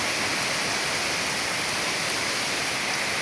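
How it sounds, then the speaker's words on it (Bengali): Steady early-morning rain pours down outdoors, a dense, even hiss of falling water that holds constant throughout with no voices. "খুব সুন্দর বৃষ্টি হচ্ছে আমাদের এলাকায় সাত সকালে।"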